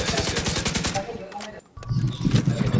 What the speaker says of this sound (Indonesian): Awas, ada turret fire, awas, menghindar.